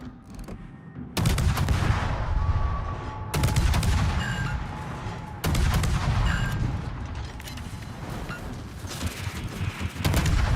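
Naval guns firing in a World of Warships battle, several heavy booming salvos spaced a couple of seconds apart, loud and close, over continuous rumbling engine and sea noise.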